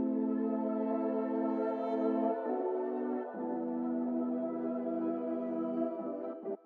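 A vocal sample tuned far up and thickened with deep Juno chorus and Wolf compression, holding steady sustained pitched tones that step down to new notes twice before a short break near the end, heard alone with no talking.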